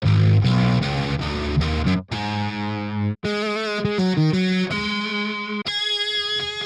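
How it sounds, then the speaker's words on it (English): Heavily distorted 9-string virtual guitar at high gain plays chugging notes and chords with squealing pinch harmonics, loud and upfront with brief gaps between phrases. "pinch harmonics are also triggered automatically at high velocities, and you can hear these better at higher gains"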